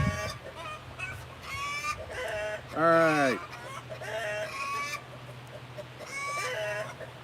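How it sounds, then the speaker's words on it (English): Laying hens cluck repeatedly in the middle of the day at an Arkansas homestead, close and fairly loud, with one long rising squawk and a brief spoken remark among the calls. "The hens are louder in the middle of the day when they're laying eggs."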